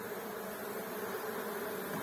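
Honey bees buzz steadily during a spring hive inspection, a dense continuous drone close by with no voices.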